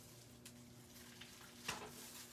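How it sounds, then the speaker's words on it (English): Faint, steady sizzle of stuffed French toast frying in a pan, a soft continuous crackle with a couple of small sharp pops. "All right, starting to sizzle really good."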